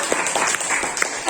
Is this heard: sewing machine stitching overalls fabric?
no